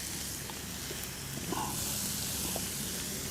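Olive oil sizzles on a hot 28-inch Blackstone folding-legs griddle, a steady, soft crackling hiss with small pops, continuous and unbroken.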